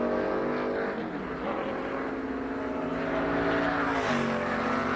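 A NASCAR race car on a qualifying lap in the 2003 Winn Dixie 200, its engine droning steadily loud with a pitch shift as it passes, no voices.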